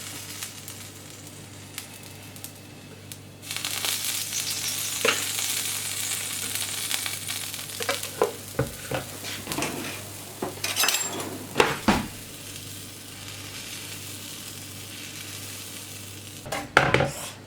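Batter cooking on a non-stick crêpe pan gives a steady sizzle that starts after a few seconds and holds throughout, with scattered utensil clinks and scraping against the pan on top.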